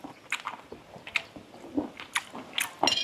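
Someone chews stir-fried squid tentacles with holy basil, producing close, crisp crunches and wet bites in an irregular rhythm with short pauses between them.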